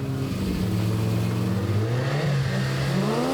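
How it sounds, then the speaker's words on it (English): A Nissan Skyline launches and accelerates hard on a top speed run after a quarter mile at a motorsport event, its engine note climbing through the revs with a gear change midway, a loud continuous roar at moderate distance. "Ron's going to go for a top speed run after the quarter mile."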